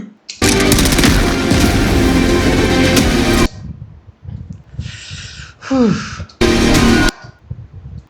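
Loud bursts of rapid gunfire in two long blasts from a film trailer, separated by quieter breathy sounds and a whooshing effect, close and intense.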